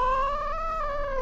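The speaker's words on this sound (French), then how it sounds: "Oh, un chat." A cat gives a short, steady tonal vocal sound, close and clear, holding an even pitch that dips slightly toward the end, with no one talking over it.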